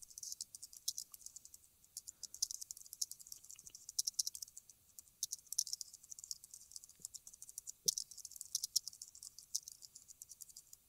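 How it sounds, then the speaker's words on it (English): Quick, faint clicking from someone typing on a computer keyboard, with irregular keystrokes that come in short runs and pauses throughout, no voices. "I'll just type in a quick blog post"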